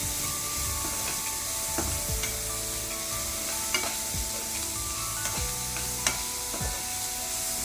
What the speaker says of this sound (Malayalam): വഴന്ന് വരുന്ന സമയത്ത് നമുക്ക് ഈ തക്കാളി ചേർത്ത് ഇളക്കാം